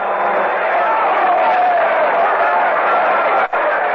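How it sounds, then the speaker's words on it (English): Baseball stadium crowd at a 1976 Yankees–Brewers game reacting to a high inside fastball that sends the batter to the dirt: a loud, sustained roar of many voices that holds steady for several seconds, briefly dipping near the end. "And the crowd responds."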